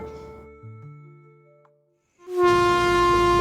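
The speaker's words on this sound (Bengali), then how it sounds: "ট্রেন যখন রত্নপুর স্টেশনে পৌঁছালো" A train sound effect in a Bengali horror audio story: after a quieter tonal lead-in, a loud, sustained horn-like blast sets in abruptly and holds steady to the end, with no talk.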